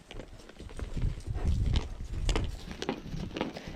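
A horse cantering on command, its hooves drumming a steady three-beat clip-clop on the ground, fairly close and continuous throughout with no talk over it.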